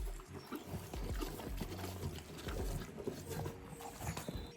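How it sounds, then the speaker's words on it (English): Close, soft crunching and chewing of horses eating, with small shuffles and rustles in a quiet outdoor setting. "I could listen to horses munching for hours."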